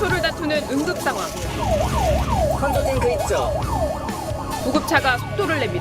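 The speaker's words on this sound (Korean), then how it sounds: "구급차가 속도를 냅니다." An ambulance siren wails with a rapid rising-and-falling yelp over loud traffic and engine rumble, with voices faintly underneath, as the ambulance speeds to a tower crane collapse in Uijeongbu, South Korea.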